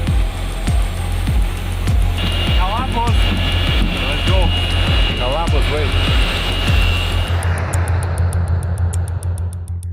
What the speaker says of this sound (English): The plane landed around midnight